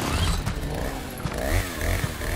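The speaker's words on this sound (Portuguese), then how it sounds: "acho que vem o cara da motosserra agora." The chainsaw enemy in the Resident Evil 4 Remake video game, its saw engine rumbling and revving up and down amid dense game noise, loud and continuous, with occasional thuds and no speech.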